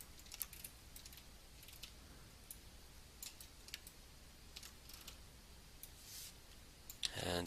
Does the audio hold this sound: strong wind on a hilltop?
no